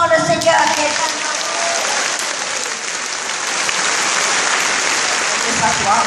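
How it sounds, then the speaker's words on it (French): A church congregation bursts into loud, sustained applause filling the room for several seconds, with a brief voice at the start before the clapping carries on alone. "Applaudissons le Seigneur qui est tellement..."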